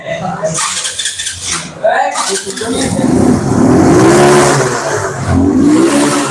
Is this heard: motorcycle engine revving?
yes